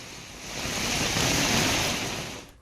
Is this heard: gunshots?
no